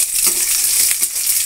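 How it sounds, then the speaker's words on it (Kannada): Onion and curry leaves fry in hot oil for bitter gourd sambar, a steady close bright sizzle with brief stirring scrapes and no voices. "ಈರುಳ್ಳಿ, ಕರಿಬೇವಿನ ಸೊಪ್ಪು ಒಂದು ಸ್ವಲ್ಪ ಹಾಕ್ತೀನಿ. ಇದು ಫ್ರೈ ಆಗಲಿ"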